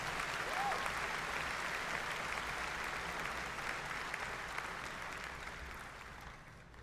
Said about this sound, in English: Again, another big round of applause.